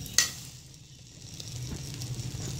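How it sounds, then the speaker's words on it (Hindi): Egg-dipped sweet bread slices fry in a pan with a soft, steady sizzle. A sharp clink at the start comes as a piece is set down, then the bubbling crackle continues close by. "इस तरह हम बारी बारी सारे पीसेस फ्राई कर लेंगे अच्छे से।"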